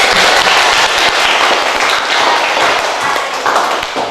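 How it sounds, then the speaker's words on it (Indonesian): Applause from students in a classroom during a lesson, a dense, loud, continuous patter of many hands clapping at once that stays steady across the whole stretch and eases slightly toward the end. "tepuk tangan untuk Fahri."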